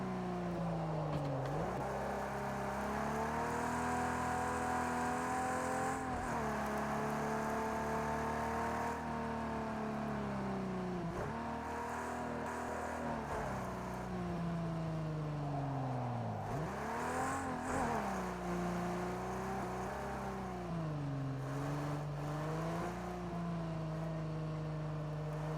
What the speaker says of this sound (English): The engine also sounds pretty crackly. You can hear the oil popping.